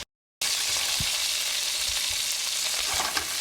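Cauliflower pieces fry in a hot pan, a loud, dense, continuous sizzle that starts abruptly after a brief silence and holds steady throughout, with a few faint low knocks beneath it.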